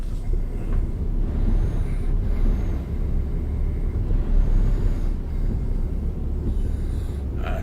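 Truck engine in the Euro Truck Simulator 2 driving game, a steady low droning rumble that holds evenly throughout with slight swells, alone without talk.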